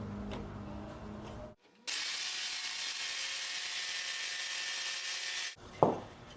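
A saber saw cuts wood for a wheelbarrow planter. After a brief pause the motor starts up with a loud, steady high-pitched buzz and grinding, runs for about four seconds, then cuts off with a short knock at the end.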